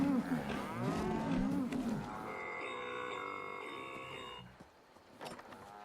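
A cow lows in the Fallout 76 game world, one drawn-out moo with a wavering pitch followed by a sustained, mechanical-sounding tonal drone, then a few faint scattered clicks.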